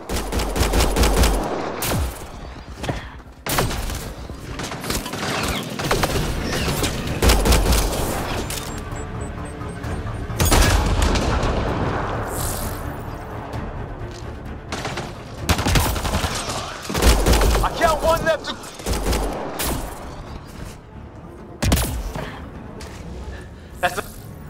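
Gunfire rattles through a Mass Effect: Andromeda battle, repeated bursts and single sharp shots spread across the scene, loud and close, with game voices speaking between and over the firing.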